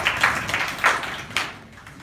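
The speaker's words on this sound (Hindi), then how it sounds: "ये अच्छा बच्चा है, इसके लिए ताली बजाओ।" A few children clap in loose, uneven bursts in a classroom at a village composite school, the claps close and modest in volume, trailing off after a couple of seconds.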